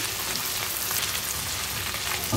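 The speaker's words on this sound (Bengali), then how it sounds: "চিংড়ি মাছটাকে ভালো করে কষিয়ে নিতে হবে যাতে কাঁচা গন্ধটা না আসে" Small prawns sauté in a pan with a steady close sizzle of hot oil and faint stirring, no voices over it.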